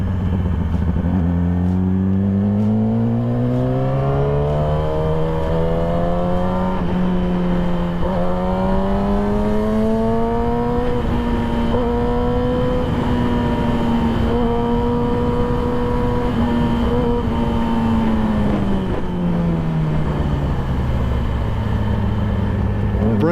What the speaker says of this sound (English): Downshifting and decelerating.